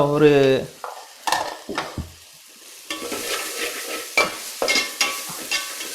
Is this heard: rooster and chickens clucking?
no